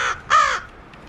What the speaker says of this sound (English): This is Peach the crow.